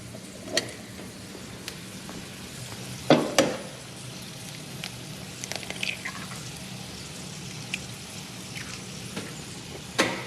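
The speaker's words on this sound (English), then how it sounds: "we'll put our egg in now" An egg frying in a pan with steak and potatoes, giving a soft, steady sizzle close by, with a few scattered clicks and scrapes of utensils against the pan.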